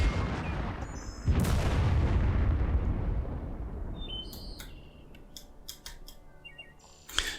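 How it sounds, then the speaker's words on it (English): Heavy explosions and bursts of machine-gun fire in a WWII video game, one loud blast early followed by rumbling decay and scattered sharp clicks and shots later. "Let's shoot all the machine guns in there."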